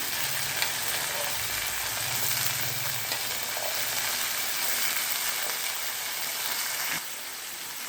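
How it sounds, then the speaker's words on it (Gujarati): Mixed vegetables with large green cowpeas sizzling in a hot pan, a loud, even hiss that holds steady for several seconds and then drops slightly toward the end. "આપણે આ મિક્સ જે શાક કર્યું હતું તે ઉમેરી દઈશું"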